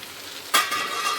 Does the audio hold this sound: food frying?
yes